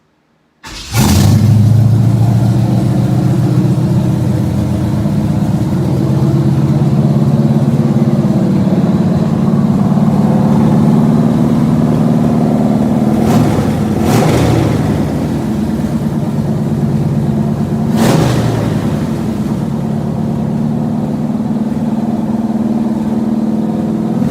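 A 1967 Chevrolet Chevelle engine cranks and catches, then settles into a loud, lumpy idle with a couple of sharp revs blipping over the steady rumble, close up and with no voices.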